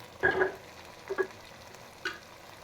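Red chili powder, turmeric, salt and tomato being stirred in a pan for kadhi pakora, heard as three short, faint scraping bursts of a spoon against the pan with quiet gaps between them.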